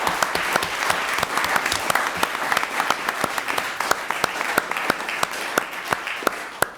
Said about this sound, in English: So round of applause for the coaches as well.